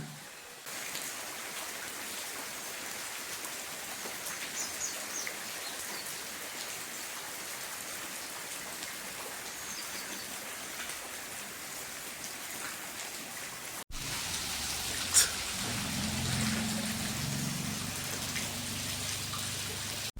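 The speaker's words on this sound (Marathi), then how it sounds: "गेली दोन ते अडीच तास झालं सतत पाऊस पडत आहे" Steady rain falls continuously, a dense even patter that shifts to a slightly louder, fuller wash with a brief knock partway through.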